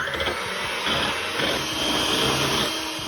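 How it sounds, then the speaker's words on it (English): Electric hand mixer whipping a chilled can of evaporated milk in a bowl until thick, a steady loud whirring drone that holds for the full stretch with slight wavering, no voices. "I'm gonna mix that until whipped and thick."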